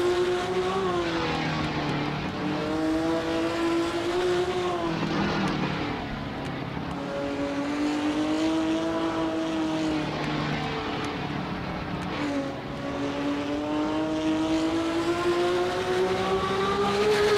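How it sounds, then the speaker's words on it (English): A race car engine runs steadily on a racetrack during a fun race, a loud continuous droning roar that rises and falls slightly in pitch throughout, with no speech. "closer to this engine so we can hear how good it sounds"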